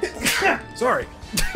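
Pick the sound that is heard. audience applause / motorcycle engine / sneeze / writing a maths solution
sneeze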